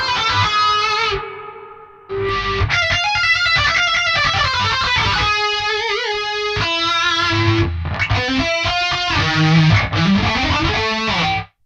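Distorted electric guitar with heavy reverb in a heavy tone, loud and continuous with a brief gap near two seconds, sustained chords and riffs ringing out, no voices.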